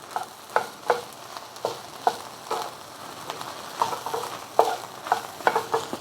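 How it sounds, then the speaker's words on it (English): Egg fried rice sizzles in a hot pan while a utensil scrapes and stirs it in steady, repeated strokes, close and clear with no talking. "And just the simple egg fried rice, breaking up the egg now."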